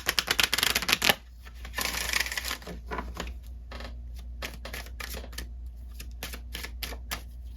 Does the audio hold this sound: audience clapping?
no